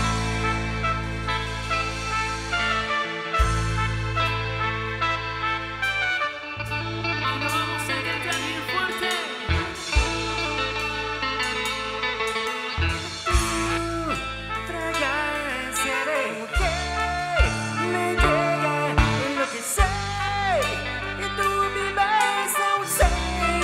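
A live pop band plays a song at a wedding, with a strong rhythmic bass line, punchy drums and bright melodic instruments, loud and continuous without speech.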